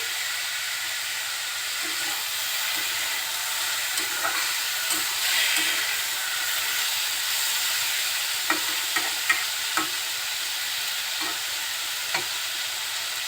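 Potato bhaji frying in a pan gives a steady close sizzle throughout, punctuated by a handful of sharp scraping clicks as it is stirred, with no talking.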